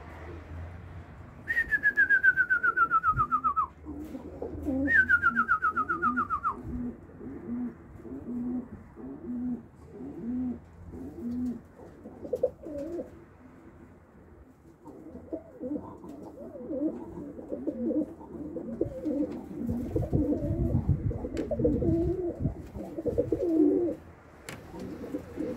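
Pigeons in a small breeding loft give repeated throaty coos in a rhythmic pattern, close and fairly loud, with two long descending whistle-like tones early on and a brief burst of rustling later.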